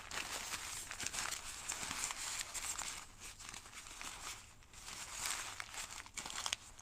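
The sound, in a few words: crumpling paper for watercolor batik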